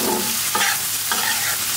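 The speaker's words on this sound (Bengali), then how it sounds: "লবণ আর হলুদ দিয়ে এখন আস্তে আস্তে সুন্দর করে ভেজে নিতে হবে।" Garlic cloves frying in a pan with salt and turmeric, a close steady sizzle broken by two brief scraping stirs of a utensil, with no voices.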